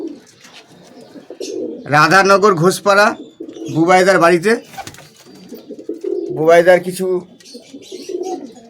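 Pigeons coo quietly in a loft of highflying birds at a home in Radhanagar Ghoshpara, Krishnanagar, the soft murmur running under a man's loud, close narration that comes in three bursts.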